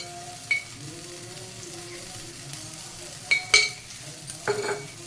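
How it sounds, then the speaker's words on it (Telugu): Ghee and oil mix sizzling on a pesarattu, a green gram crepe on an Andhra breakfast griddle, with a low steady crackle and a few sharper clinks of a utensil near the end. "ఇప్పుడు దీని మీద నెయ్యి నూనె మిక్స్,"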